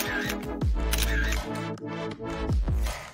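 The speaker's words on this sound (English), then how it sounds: "We haven't done our daily selfie yet." A phone camera fires off a quick series of shutter clicks while selfies are taken, the sharp snaps spaced irregularly amid faint background sound.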